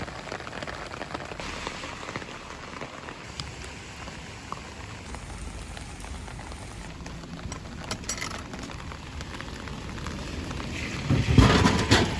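Steady rain patters on nearby surfaces in a continuous, close hiss with scattered drips, swelling louder near the end. No voices are heard.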